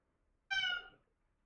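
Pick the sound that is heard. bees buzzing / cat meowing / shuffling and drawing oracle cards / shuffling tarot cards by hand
cat meowing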